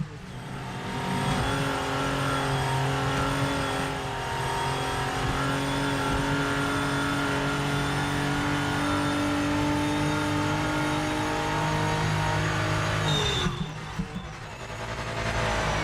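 A race car in a racing sim video game screams at high revs, its engine held near the limit in a loud sustained whine with shifting pitch, then drops sharply near the end, no voices.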